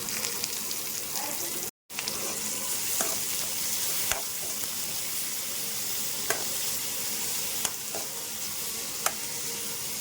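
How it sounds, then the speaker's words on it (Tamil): Chopped onion fries in a pan with crushed garlic, giving a steady, close sizzle and crackle. Faint clicks of stirring sound now and then, and the sound cuts out for a moment near the start. "வெங்காயம் கொஞ்சம் வதங்கட்டு"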